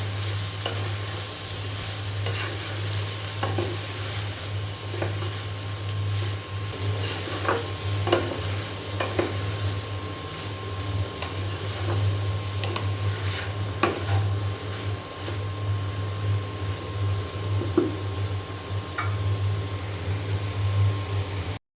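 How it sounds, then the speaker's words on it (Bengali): Okra and other vegetables frying with turmeric and salt, stirred in a pan: a constant sizzle with scattered spatula scrapes over a low, steady background hum, and no speech. "এখন খুব ভালো করে আবারও আমি নেড়ে চেড়ে দেবো।"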